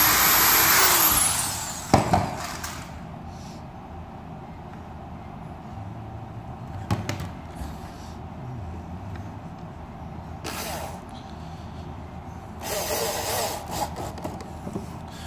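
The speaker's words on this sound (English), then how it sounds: "If I just line my drill up right in the center and then just follow it across" Power drill driving screws into a wooden birdhouse roof, with short whirring bursts near 2, 7, 10.5 and 13 seconds separated by quieter pauses, over a steady low background hum.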